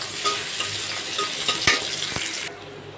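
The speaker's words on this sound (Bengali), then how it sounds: "তেলটা গরম হয়ে গেছে। এখন আমরা পেঁয়াজ দিয়ে দিব। পেঁয়াজ দিয়ে দিলাম।" Onions hiss and sizzle in hot oil in a wok over a clay stove, a steady broad frying crackle with a few sharper stirring scrapes, running loud throughout before dropping off near the end.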